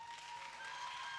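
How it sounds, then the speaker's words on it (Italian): Applause from a studio audience at a televised Italian singing school show, a short steady burst of clapping with a faint tonal hum running beneath it. "ragazzi, applauso!"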